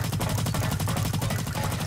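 Rapid automatic gunfire in the Blacklight Retribution video game rattles on without pause, dense and loud, in fast repeating bursts.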